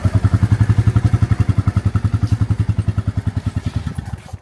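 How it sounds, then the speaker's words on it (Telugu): A motorcycle engine idles close by with a loud, steady, rapid thumping beat that slows and fades slightly as the bike is wheeled out. "ఫ్రెండ్స్ ఇప్పుడైతే బండిని అయితే బయటకి తీసుకొస్తున్నాం."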